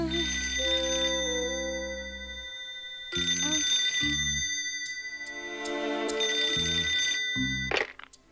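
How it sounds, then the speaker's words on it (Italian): A telephone rings repeatedly through the night in a cartoon household, its bright electronic tones sounding in bursts with short gaps, with no voices present. "Il suo telefono comincia a squillare appena diventa buio e poi va avanti fino quasi all'alba."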